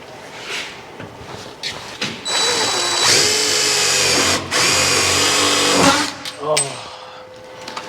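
A power drill whirs in bursts as it drives long self-tapping screws into the quarter panel of a Chevy Nova under restoration, several short spins leading to a long sustained run, close and loud, with a person talking at times.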